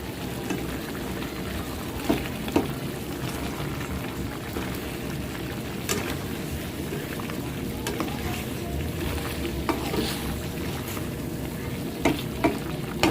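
Taro and potatoes drop into a sizzling pan of chicken coconut curry, a steady hiss of frying broken by a few sharp stirring clacks and spatters.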